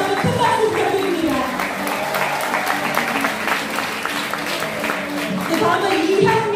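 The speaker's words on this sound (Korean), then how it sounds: "우현수 총무위원장께 다시 한번 큰 박수 부탁드립니다" Audience at an Incheon hotel political report meeting applauding a committee chair, a steady, full round of clapping from a crowded room that holds evenly throughout.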